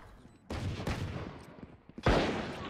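Valorant gunfire: a sudden burst of rapid shots breaks in, followed by scattered cracks and a second sharp volley near the end, fairly loud against a quieter game background.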